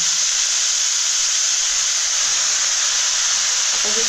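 Chopped vegetables with onion and salt sauté in a hot pan, giving a loud, steady, close hiss of sizzling that runs unbroken and alone.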